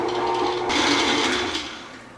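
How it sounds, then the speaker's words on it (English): Electric stand mixer creaming butter and brown sugar for gingerbread cookie dough, a steady whirring motor hum that rises briefly and then tapers off, close and alone. "You'll go ahead and cream these together in your mixer."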